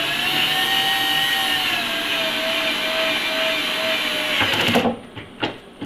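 A power driver set to very low torque spins up with a steady whirring whine that slowly drops in pitch, then a few sharp clicks and knocks as it stops, while installing a kitchen cabinet.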